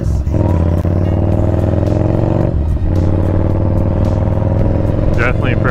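A Yamaha Bolt motorcycle ridden in hot weather, its engine thrumming loud and close in a steady drone with slight revving shifts, while a rider talks over it.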